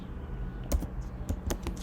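A computer keyboard clicks several times as a word is entered into a Python Wordle-solving script. The keystrokes are sparse and fairly close, with no voices.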